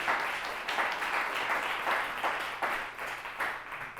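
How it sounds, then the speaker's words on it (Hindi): A church congregation applauding during a sermon, a dense, sustained round of many hands clapping that fills the room, with a slightly rhythmic swell and no talking. "क्यों ना प्रभु के लिए हम ताली बजाएं।"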